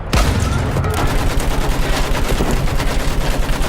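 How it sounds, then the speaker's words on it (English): Sustained machine gun fire in the Battlefield 1 video game, a loud, dense rattle of rapid bursts that runs continuously without pause, with no speech over it. "Use that machine gun! Mow them down!"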